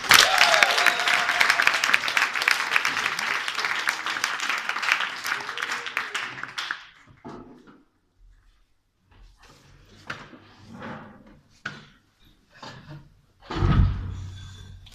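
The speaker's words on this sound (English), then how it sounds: "Let's give her a big round of applause and a big Rotterdam welcome for Aliana Almao." Comedy club audience in Rotterdam applauds and cheers loudly for a stand-up comedian, the dense clapping running for about seven seconds before fading, followed by scattered quieter crowd sounds and a brief renewed burst near the end.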